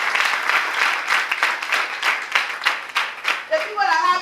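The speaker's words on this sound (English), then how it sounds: "Clap your hands for them." An audience at a rural community celebration for International Day of the Girl Child claps hands steadily, a dense crowd of applause close by, with a voice rising over it near the end.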